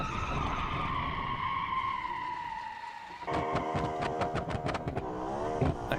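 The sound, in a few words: fast car skidding while driven hard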